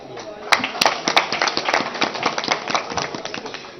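An audience at a traders seminar in Faisalabad claps in a steady run of sharp, close hand claps, with voices murmuring underneath throughout.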